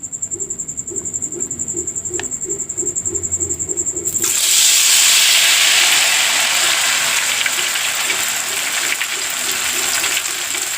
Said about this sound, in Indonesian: Selanjutnya kita akan goreng yang ketiga